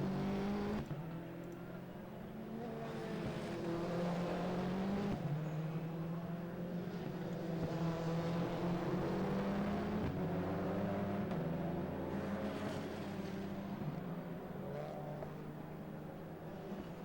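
Endurance race cars lap the Oulton Park circuit during a Britcar Endurance race, engines droning and rising and falling as cars pass at a distance in a continuous roar.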